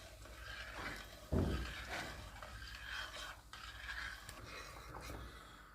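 Ayran soup being stirred in a pot on the stove until it boils, quiet intermittent scraping and clinking of a spoon against the pot, close and soft, with no talking.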